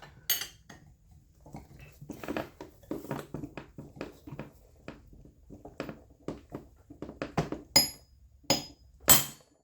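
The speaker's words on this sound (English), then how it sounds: "swinging a hammer left-handed" Hammer striking the flywheel of a Stihl MS391 chainsaw during a shop rebuild: a series of sharp metallic blows, irregular at first and then heavier, ringing clanks near the end, close and loud with no talk.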